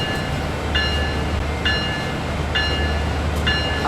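A train in Train Sim World 5 rumbles along steadily with a low running drone, while a bright repeating tone pulses roughly once a second over it, likely the warning bell left on, with no voices.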